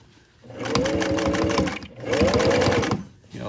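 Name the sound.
sewing machine stitching a pant hem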